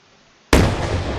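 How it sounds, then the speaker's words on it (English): An explosion in a chemistry-lab video game where chemicals such as potassium are mixed. After a brief near-silence comes a single loud, sharp burst that rumbles and decays slowly. "Explosions everywhere."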